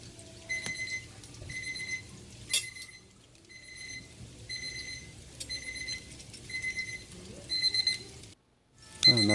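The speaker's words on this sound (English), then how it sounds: "And that's our timer for the rice there." A kitchen timer beeps in a steady repeating pattern while brown rice with raisins cooks. The beeping is fairly close and clear, with faint kitchen noise underneath, and it stops shortly before the end. No one speaks.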